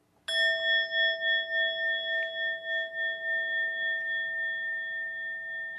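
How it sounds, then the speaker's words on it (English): A meditation bell is struck once, clear and bright, its tone ringing on steadily and slowly fading over several seconds. "And we'll end this meditation with 1 sound of the bell."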